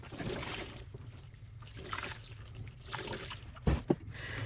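Warm water is poured in a soft, steady trickle over a gentle background hiss, ending in a couple of brief louder splashes.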